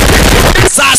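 Loud automatic gunfire from an action movie with a Kinyarwanda dub crackles in close, dense bursts, then cuts into sharper separate cracks.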